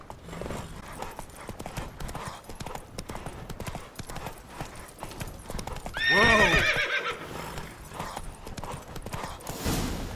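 Horse hooves clip-clop at a gallop in The Witcher 3, a steady beat running throughout, with a loud close neigh and whinny near the middle rising over the hoofbeats.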